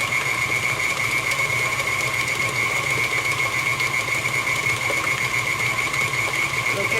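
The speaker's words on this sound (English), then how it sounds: "Right now I've got it on a level 4 on a stand mixer." A stand mixer runs steadily on speed 4, beating cheesecake batter in its bowl: a constant motor whine and hum, close and fairly loud, with no breaks and nobody talking.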